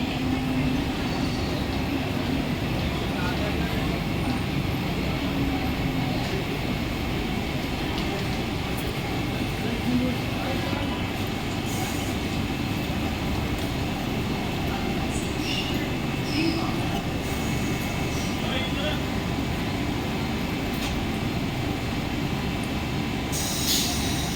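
A Mumbai slow local train idles and rumbles at a station platform at night, with low mechanical hum, occasional hissing and clanks, and faint background voices.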